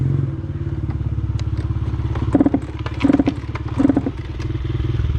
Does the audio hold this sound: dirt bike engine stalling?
yes